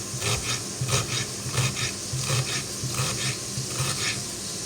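Chopped food frying in a pan during home cooking, a steady crackling sizzle with repeated scraping strokes as it is stirred, moderately close and with no talk.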